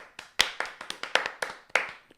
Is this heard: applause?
yes